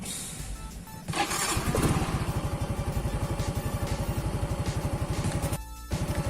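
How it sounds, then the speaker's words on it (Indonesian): A motorcycle is cranked with its electric starter and the engine catches, settling into a steady, rapid idle that throbs close and loud, with a brief dip near the end. "Sekarang kita akan nyalakan motor dengan starter"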